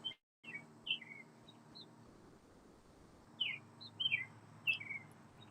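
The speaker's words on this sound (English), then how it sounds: "All of a sudden, I got to go and take care of a bird." Small birds chirp in short, bright tweets, a couple early and then a cluster of calls near the end, heard over a steady low background hum with no voices.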